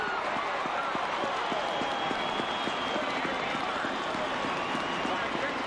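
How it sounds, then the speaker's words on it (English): A football stadium crowd in Morgantown, West Virginia, cheers loudly and steadily after a successful 48-yard field goal, a dense wash of roaring and clapping that holds throughout, with faint rhythmic thumps beneath it. "Jay Taylor has got them standing and cheering here in Morgantown, West Virginia"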